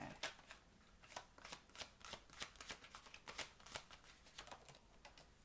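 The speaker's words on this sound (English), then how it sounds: "Cards flipping." Tarot cards are shuffled and flipped up close in a quick series of crisp, papery riffles and snaps, sounding fairly soft and steady.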